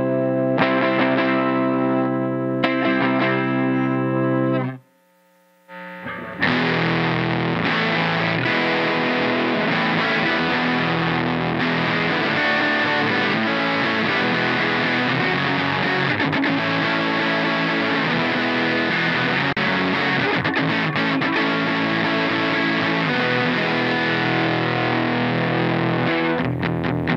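Electric guitar played through a Chase Bliss Preamp MKII pedal, a thick distorted sustained tone after a short pause, loud and continuous with no voices.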